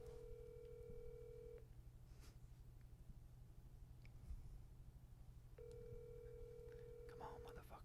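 Telephone ringback tone on a call waiting to be picked up: two long, steady rings separated by a few seconds of quiet line hiss, faint and thin with small clicks in between.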